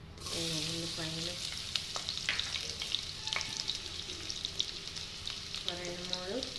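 Onions fry in oil with mustard and cumin seeds, giving a steady sizzle with stirring scrapes and small pops. Brief voice-like tones appear at the start and end.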